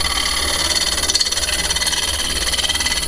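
Ash bowl spinning on a wood lathe at about 1000 rpm, a steady motor hum with a rapid rhythmic pulsing wobble running throughout.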